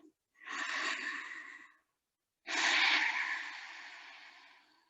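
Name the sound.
deep breath during yoga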